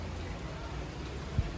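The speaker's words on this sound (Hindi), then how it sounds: "चलो बेटा, बारिश हो रही है।" Rain falls steadily outdoors in the morning, a soft, even hiss that holds without breaks across the short moment, with one faint low thump near the end.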